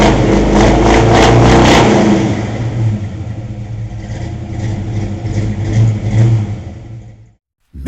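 A 1970 Ford Mustang engine revs hard at full throttle, loud and close with a deep rumbling roar. It eases into a throbbing, fluctuating drone, then cuts off abruptly near the end.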